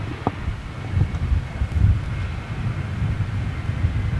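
A Boeing 737 airliner at London Gatwick, a distant broad roar of jet engines mixed with wind buffeting the microphone, swelling slightly then steady.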